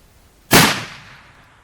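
A single loud, sharp report from a .50 BMG or .416 Barrett rifle fired at a range, with a sudden blast followed by a long decaying rumble and echo.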